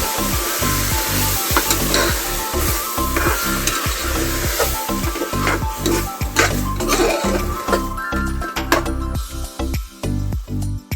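Spices fry in a hot pan for a horse gram sprout sambar tempering, a steady sizzle broken by repeated rhythmic scrapes and knocks of a spoon stirring against the pan, close and continuous, with no one speaking.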